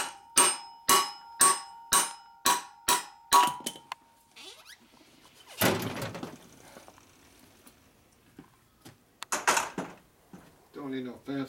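A hammer strikes stripped disc brake rotor bolts on a Harley motorcycle: a steady run of about nine sharp metallic blows, then a pause and a few scattered knocks and clanks at close range.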